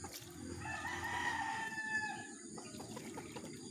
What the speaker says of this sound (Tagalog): Ang ating mga manok.